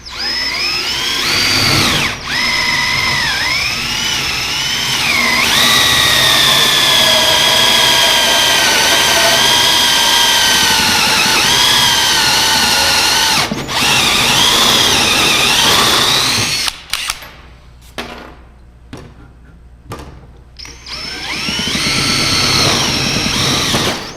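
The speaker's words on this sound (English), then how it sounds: "Now I do like to make sure that when I'm doing holes with the hole saw" A hole saw bores holes through a custom chopper motorcycle seat pan, a loud steady whining grind that holds for long stretches, then breaks into short stop-start bursts near the end.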